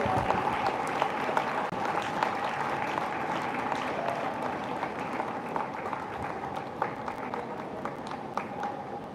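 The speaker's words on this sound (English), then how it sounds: "Give them a huge round of applause." Sustained audience applause filling a school annual day hall after a faculty introduction, dense steady clapping from a large crowd with scattered louder claps, continuing evenly throughout.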